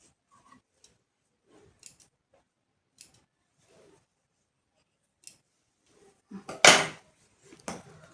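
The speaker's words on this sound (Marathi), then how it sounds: "हे जे धागे आहेत कापडचे ते मी कट करून घेते" Scissors snipping loose fabric threads while a dress is being stitched, a few faint scattered clicks followed by two louder, closer snips near the end.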